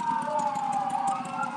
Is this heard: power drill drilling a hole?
no